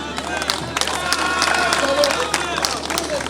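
An audience applauds at an official ceremony in Uvira addressed to the President of the Republic: dense, steady clapping that fills the whole stretch, with crowd noise mixed in.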